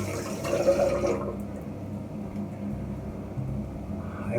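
Water splashes and runs close by as a face is washed at a sink, with a loud rushing patch at first that settles into a softer, steady trickle.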